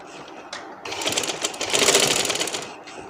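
Sewing machine stitching a designer dress with square sleeves runs in a fast, continuous whirring burst after a few short starts, fairly close and loud, with no voices.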